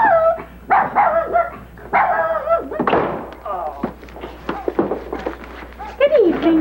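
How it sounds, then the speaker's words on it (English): A dog barks and yips repeatedly in short, loud bursts with some whimpering and a thud, close by, amid voices. "Harvey Plunkett's damn dog again"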